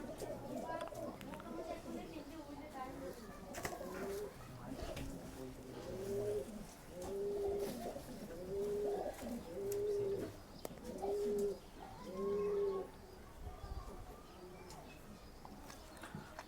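Domestic pigeons of the Andhara and Madrasi breeds, kept in a backyard loft in Katwa, coo in a steady series of soft throaty calls, repeating roughly every second over several seconds while someone talks nearby.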